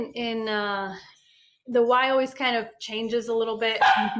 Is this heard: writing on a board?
no